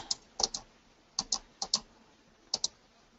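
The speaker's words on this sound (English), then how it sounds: "Left click, right click." Computer mouse buttons clicked on a desk, left and right in quick pairs: four crisp double clicks spaced irregularly, close and fairly quiet, with no talking.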